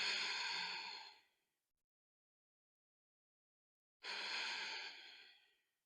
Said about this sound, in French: Et on reste 2 cycles de respiration Ujjayi.